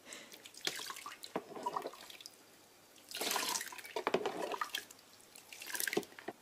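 Water splashes and sloshes in a tub while bathing a long-haired guinea pig, in short bursts with drips and trickles between, close and fairly quiet.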